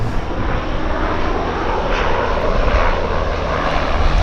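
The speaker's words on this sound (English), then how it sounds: "So we've got another Twin Otter takeoff, and look at this." A de Havilland Twin Otter floatplane taking off at Vancouver's downtown harbour: a loud, steady turboprop engine roar held close and constant throughout, with no voices over it.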